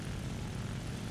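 Steady drone of an Il-2M Sturmovik propeller aircraft engine in War Thunder, a continuous low rumbling hum with no other sounds over it.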